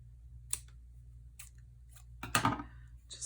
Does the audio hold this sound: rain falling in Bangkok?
no